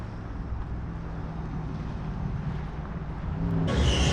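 A car drives along a road on the way to an indoor karting track, a steady muffled rumble of engine and road noise that grows a little louder near the end, with no talking.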